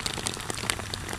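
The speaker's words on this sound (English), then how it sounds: "This is like a flash flood sort of rain." Heavy flash-flood rain pelting a motorbike rider, a dense, close hiss of pattering drops with sharp ticks against the helmet, steady and loud, with no talking.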